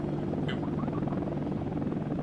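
Helicopter engine in the Air Missions: HIND flight game, a steady loud rotor-and-turbine drone running continuously without breaks.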